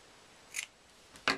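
Two quick snips of scissors cutting red tinsel trim for a holiday card, the first lighter and the second a louder double crunch near the end, close up against a quiet hiss with no voice.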